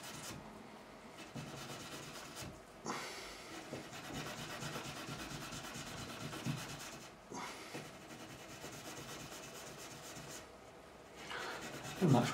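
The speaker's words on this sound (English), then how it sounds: "Doesn't take half as long using the steel wool as it does using the sandpaper." Steel wool rubbed over stainless steel guitar frets: steady close scrubbing hiss running throughout in long strokes, with short pauses between passes.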